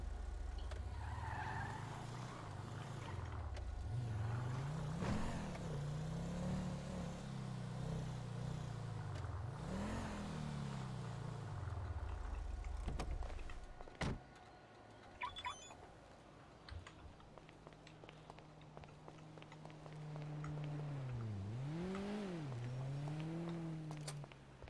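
A car being driven and parked in a roleplay video game, engine revs rising and falling with tire skids and squeals, then a quieter stretch with clicks before more revving at the end, no talk.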